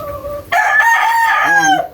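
A rooster crows loudly and close by in a backyard flock of breeding chickens and laying hens, one full cock-a-doodle-doo with a drawn-out middle and a falling end, after a brief softer call.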